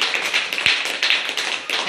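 A patient who previously could not clap now claps their hands: a quick, slightly uneven run of close, crisp claps across about two seconds, with faint voices underneath.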